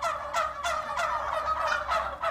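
Farmed turkeys at a turkey farm in Mosfellsbær, Iceland, gobble in repeated bursts of rattling calls, several overlapping birds close by and fairly loud with no talk.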